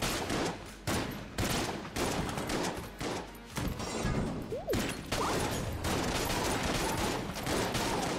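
Rapid gunfire from many shells in the video game Enter the Gungeon, a dense continuous barrage of shots with brief gaps, loud and close.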